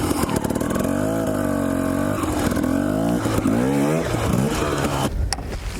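Dirt bike engine revving and roaring up close while riding a mountain trail near Idaho City, with steadily rising and falling harmonic pitch through the ride, ending in a clattering rough patch.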